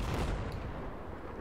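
Gunfire in Battlefield 4, a dense burst of heavy shots and booms at close range, loud and rumbling for about a second.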